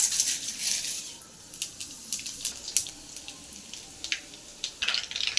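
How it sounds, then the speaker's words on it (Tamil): Mustard seeds popping in hot oil for a pirandai thuvaiyal, a close string of sharp irregular crackles over a low hiss, growing busier toward the end. "கடுகு பொறிஞ்சிச்சு"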